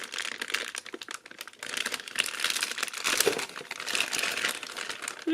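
Plastic packaging of a Zoids Liger Murasume model kit being cut open, with close, busy crinkling and scratchy rustling that keeps on for several seconds, no voices.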